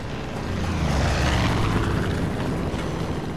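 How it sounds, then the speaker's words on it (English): Propeller airplane in the Far Cry 5 video game, its engine droning steadily and loudly throughout with a broad, rumbling hum and no talk. "This one's flying a plane."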